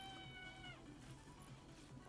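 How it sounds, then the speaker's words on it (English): A cat, Tack, meows in a drawn-out cry that falls away, with faint rhythmic clicks and a low hum underneath, quiet overall. "Meow! Love that cat."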